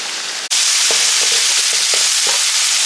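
Coriander rice mixture sizzling and frying down in a pan, a steady loud broadband hiss after a brief dropout, with faint clinks from stirring scattered throughout.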